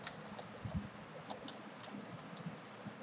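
Computer keyboard typing while entering text in ArcGIS Pro, faint scattered key taps over a soft room hiss with no voices.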